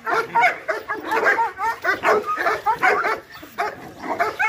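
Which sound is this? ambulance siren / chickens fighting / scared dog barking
scared dog barking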